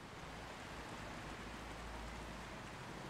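Steady, even rainfall fills the scene in the video game Until Then, a constant close hiss of rain with no breaks and no other sounds standing out.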